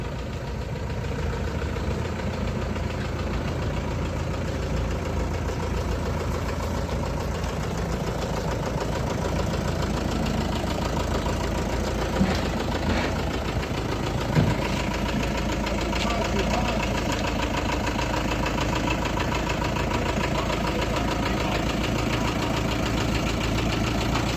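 A LOVOL 454 plus tractor's engine idles steadily and at close range throughout, a continuous low rumble and clatter with a couple of faint knocks partway through.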